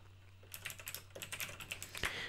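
Typing on a mechanical keyboard in a quiet ASMR recording: a close, rapid run of crisp clicking keystrokes over a faint steady hum.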